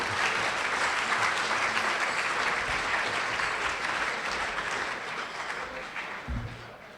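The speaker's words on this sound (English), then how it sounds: "maybe we have an applause for all the posters together" An audience at a physics awards ceremony applauds the poster winners: dense, continuous clapping that holds steady, then thins and fades slightly toward the end.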